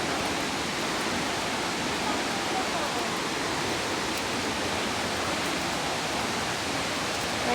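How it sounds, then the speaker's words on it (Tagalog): Hulugan Falls, a tall waterfall in Luisiana, Laguna, gives a steady, dense roar of falling water that stays even and unbroken throughout, close and enveloping. "Nakikita ko na ang Hulugan Falls. Grabe, ang laki na."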